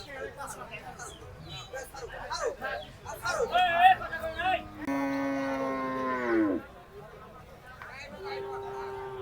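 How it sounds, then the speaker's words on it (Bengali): A red cow at the Maligram cattle market in Bhanga, Faridpur, gives a long, loud moo midway, with shorter lowing before it, amid nearby chatter and market noise. "দেখুন মালিগ্রাম হাটে বেশ সুন্দর একটি লাল কালারের গরু"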